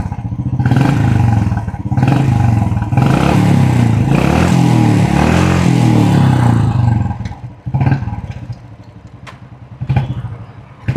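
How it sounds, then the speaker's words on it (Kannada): A Royal Enfield motorcycle engine runs close by, throbbing loudly and revving repeatedly for several seconds. It drops off briefly, then picks up again in sharper bursts. "ಈ ಗಾಡಿ ಸೌಂಡ್ ಕೇಳಿಸ್ತೀನಿ ರೀ"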